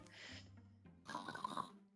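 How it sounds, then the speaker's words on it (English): Snoring from a sleeping character in the fantasy video game Wildermyth: a low, drawn-out breath swelling into a louder rasping snort over about two seconds, close and alone. "My wife snoring drives most people off"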